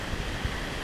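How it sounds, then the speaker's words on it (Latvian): Gusty wind buffets a small sailboat at sea in the Pacific between the Marquesas Islands, with big waves washing in a broad roar and low thumps from buffeting, close and without voices. "Brāzmains te vējš starp salām un lieli viļņi."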